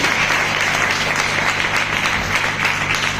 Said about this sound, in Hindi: ये ताली बजाइए ना अपने परमेश्वर को।